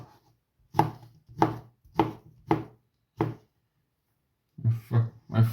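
A knife chops food on a cutting board that slides around: five evenly spaced loud, close thuds, a pause, then a quicker run of three chops, with no talking.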